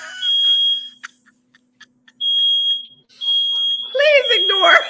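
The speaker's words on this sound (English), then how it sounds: "Please ignore the fire alarm because a big puff of smoke just came." A kitchen smoke alarm set off by smoke from frying bacon sounds in shrill, piercing beeps, stopping and starting in bursts, while someone talks and exclaims between and over the beeps.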